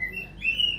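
A white-rumped shama (murai batu), a caged songbird in breeding condition, gives a short high-pitched chirp, faint and brief.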